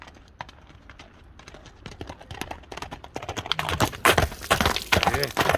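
Hooves of a ridden horse clip-clop in a quick, rhythmic patter that starts faint and grows louder and closer as it goes on.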